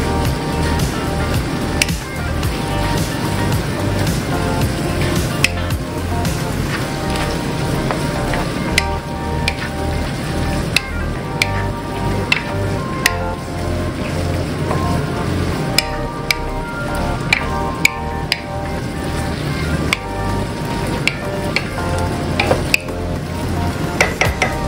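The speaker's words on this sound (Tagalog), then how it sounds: "Haluin lang natin to ng mga about 2 minutes" Stuffed bell pepper filling is stirred in a pan with a steady spoon-scraping clatter over a continuous sizzle, close and fairly loud throughout.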